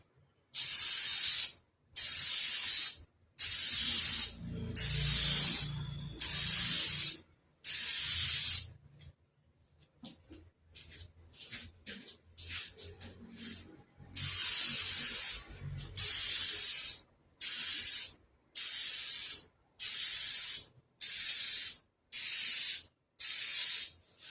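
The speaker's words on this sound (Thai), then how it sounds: "จะใช้ สเปรย์เนี่ยพ่นไปนะครับ" Bursts of spray adhesive hiss onto a laminate sheet in a steady rhythm, pausing between each short blast, with a quieter middle stretch of soft rustling before the spraying resumes.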